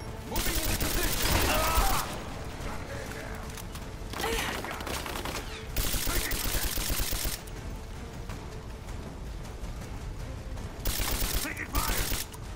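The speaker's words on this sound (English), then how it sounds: "Taking fire." Gunfire in the video game Rise of the Tomb Raider: loud bursts of rapid automatic fire in several volleys with quieter gaps between them, voices shouting over parts of it.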